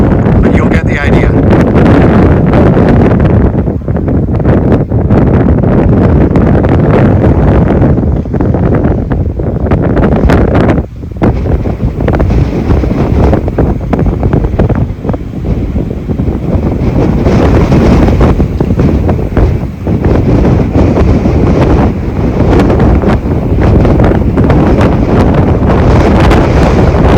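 Strong, loud wind buffets the microphone continuously at Red Rock Canyon in Waterton National Park, with a dense roar and gusty surges, and a person talks at times beneath it.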